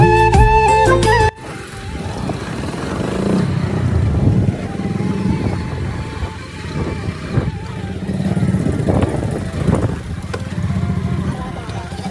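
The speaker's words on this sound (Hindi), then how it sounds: "और जाने वाला यहाँ से चढ़ा है बाइक में धीरे धीरे धीरे धीरे" A motorbike engine hums and labours as it climbs slowly up a mountain road near the Nagaland–Assam border, after a brief burst of music; the engine holds a steady, moderately loud drone with some revving.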